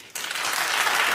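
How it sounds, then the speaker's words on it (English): A studio audience bursts into loud, dense clapping after a brief quiet moment, steady applause continuing to the end. "clap if you think she should suffer"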